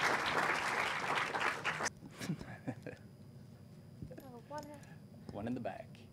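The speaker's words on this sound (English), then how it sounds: "Give Eric a round of applause." Audience applause at a talk on visualising HMRC poverty data, loud and dense for about two seconds, then cutting off abruptly; a speaker's voice follows over a quieter room.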